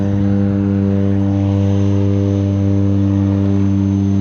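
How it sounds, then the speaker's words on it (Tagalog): A propeller airplane at a runway powers up for takeoff, its engine giving a loud, steady droning buzz with a strong hum that holds level throughout. "ready for takeoff na siya."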